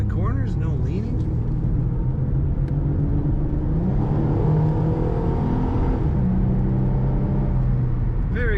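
2006 Ford Mustang accelerating on a road, a steady in-cabin engine drone that rises in pitch over several seconds, then settles, with continuous road rumble throughout.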